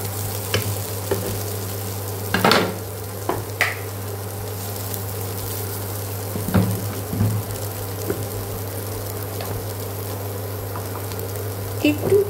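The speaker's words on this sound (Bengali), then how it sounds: "দেখুন ম্যাশ আলুটাকে আগে একটুখানি আমি নেড়ে নিচ্ছি" Mashed potato with a little salt being stirred in a pan, soft scraping and occasional louder knocks over a low steady hum and faint sizzle, with no talk.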